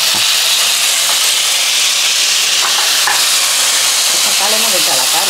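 Chopped onions and tomatoes sautéing in a pan for a Kerala mathanga (pumpkin) curry, a steady loud sizzle with stirring scrapes throughout and no voices.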